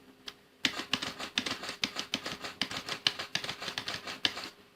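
Rapid computer keyboard keystrokes clatter in a close, steady burst of sharp clicks, roughly a dozen or more presses in quick succession with no talking.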